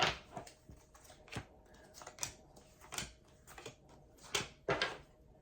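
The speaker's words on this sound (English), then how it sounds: "I'm gonna give it a quick shuffle." Crisp riffling bursts of cards being shuffled, a series of short irregular clatters spaced about a second apart, close and fairly quiet.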